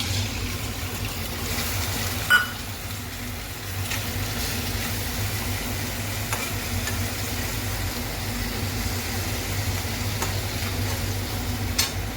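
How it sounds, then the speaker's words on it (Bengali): Spice mix and fried potatoes being sautéed in a pan for a fish-head curry, with a steady close sizzle and a few sharp scrapes of stirring, no talking. "এবারে সব মশলা মিলিয়ে নিয়েছি, এবার একটু কষিয়ে নিই।"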